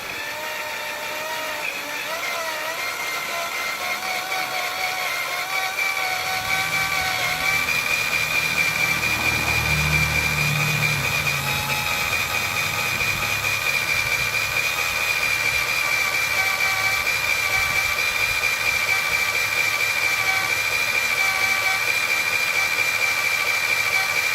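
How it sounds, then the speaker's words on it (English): A power drill bores out a broken bolt in the valve cover of a 2002 Honda Accord, whining steadily and loudly throughout with a slight pitch wobble and a lower rumble midway. "Now, back to drilling."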